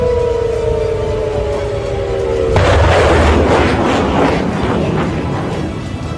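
A siren wails with a falling tone, and then a heavy blast hits during an Iranian missile strike on the Al Udeid base in Qatar. A loud roaring rumble follows and drowns out the siren, with no talking.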